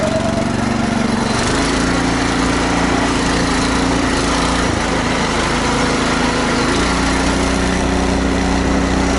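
Motor tricycle engine running steadily while riding, a loud continuous buzzing drone throughout with a slight shift in pitch early on and no talking.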